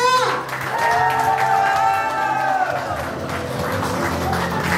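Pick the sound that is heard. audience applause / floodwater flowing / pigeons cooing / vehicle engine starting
audience applause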